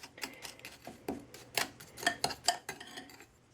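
Brown sugar and vanilla sugar are stirred together in a bowl, giving a quiet series of irregular scraping and clinking taps from the utensil against the bowl, close and with no speech.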